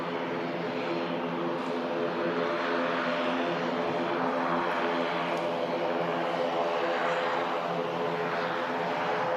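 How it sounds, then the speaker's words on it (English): Aer Lingus ATR turboprop airliner departing Manchester Airport, a steady droning propeller engine hum heard at moderate distance, holding constant with no voices. "Aer Lingus ATR heading out to Dublin."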